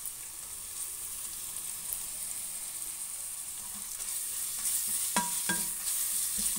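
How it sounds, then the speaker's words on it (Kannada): Onions browning in oil with ginger-garlic paste sizzle steadily for a country chicken curry, with a spoon scraping and stirring the pan close up and a couple of sharp metallic clinks near the end. "ಈರುಳ್ಳಿ ಸ್ವಲ್ಪ ಬ್ರೌನ್ ಕಲರ್ ಬರೋವರೆಗೂ ಚೆನ್ನಾಗಿ ಫ್ರೈ ಮಾಡ್ಕೋಬೇಕು."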